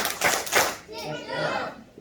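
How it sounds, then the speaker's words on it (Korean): Children at a church Sunday school service clap in quick claps, sharp and close, followed by a brief ringing tail in a reverberant room. "박수 세 번. 시작!"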